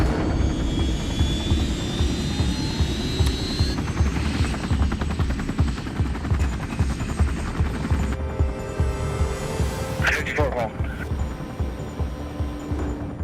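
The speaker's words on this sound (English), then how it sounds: "the air unit had taken off from our local airport here in Venice and was over top of us" A police air unit flies low overhead during a high-speed boat pursuit near Venice, with a loud, steady rotor-and-turbine roar and a rhythmic chop that stays close and continuous throughout.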